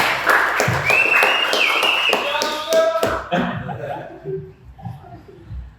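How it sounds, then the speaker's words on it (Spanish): A small group claps briefly with scattered hand taps and light laughter, talk and chuckling mixed in, then the clapping fades out into murmuring voices. "Un aplauso ahora para Sebas."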